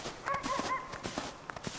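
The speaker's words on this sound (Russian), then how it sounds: "у меня собака там кого-то лает" Dog barking in a snowy forest near a river, a few short barks and yips at a distance, fairly faint, with no one talking.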